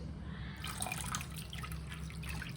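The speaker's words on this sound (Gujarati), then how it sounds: "હવે આપણે તેમાં 1 લીટરની આસપાસ પાણી ઉમેરીશું" Soft, steady splashing of about a litre of cold water poured into a thickened mango pulp mixture, quiet and continuous, heard close with no talking.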